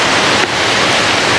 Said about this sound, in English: Got a little stream coming down right